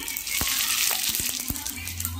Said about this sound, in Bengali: একটু রাঁধুনি, পাঁচফোড়ন, শুকনো লঙ্কা দিয়ে দিচ্ছি।